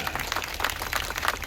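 An audience claps along at a Hindu gathering, a short, steady patter of many hands heard close and moderately loud, with no voices over it.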